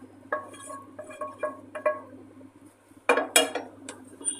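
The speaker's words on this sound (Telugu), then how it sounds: "ఇప్పుడు రెడీ అయిన టమాటో ప్యూరీని ఈ రైస్లోకి వేసుకొని కలుపుకోవాలి" Mixing tomato puree into coarsely cooked rice in a pot for tomato rice, with a series of light utensil clinks and scrapes against the pot, then a louder cluster of metal knocks near the end, all close and without talk.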